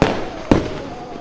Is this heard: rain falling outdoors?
no